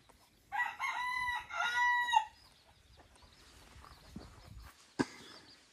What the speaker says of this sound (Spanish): yo veo mucho gallo por ahí.